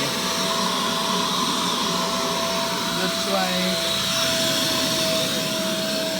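A Fantom Wildcat vacuum cleaner runs steadily throughout with a loud, constant whine and roar, while a person speaks briefly over it.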